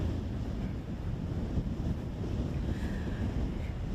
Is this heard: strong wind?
yes